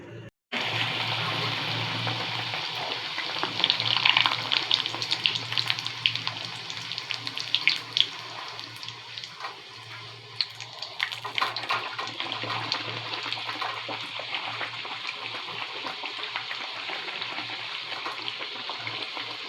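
Bhature dough frying in hot oil, a loud steady hiss and bubbling that starts abruptly and carries on for the whole stretch, with faint movement and no talking.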